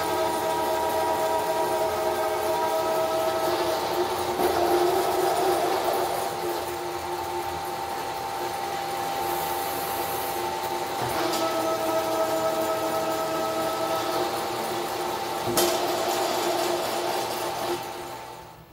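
A tapping machine threads 13 holes in a 5/8-inch-thick aluminum plate, lubricated with Anchorlube. It gives a steady, close mechanical whine with a few sharp clunks as the tap reverses, and no talk.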